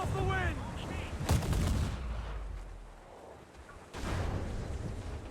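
Heavy cannon fire from a sailing ship in the pirate game Assassin's Creed Black Flag, with two loud booming blasts spaced a few seconds apart over a steady rumbling game soundscape.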